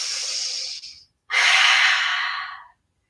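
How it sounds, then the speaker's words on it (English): Two deep, breathy inhales or exhales during a children's yoga pose, each a long airy rush close to the microphone, separated by a brief silent pause. "Let's be here for 2 more breaths"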